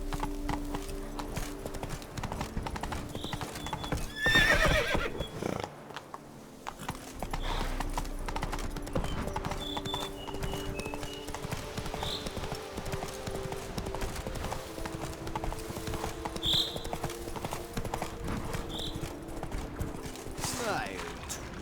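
A horse in The Witcher 3: Wild Hunt, Blood and Wine, gallops with loud, rhythmic clip-clop hoofbeats that run continuously, along with scattered game sound effects and vocal sounds.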